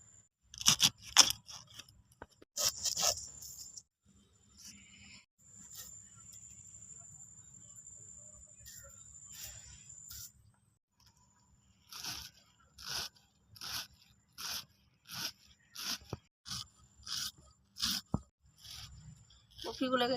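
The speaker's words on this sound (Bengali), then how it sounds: "এবার আমি কপিটাকে খুব ছোট ছোট পিস করে কেটে নেব" A knife chops cabbage finely on a board in a home kitchen, a fast run of sharp, crisp, evenly spaced cuts near the mic, with quieter scraping and pauses earlier.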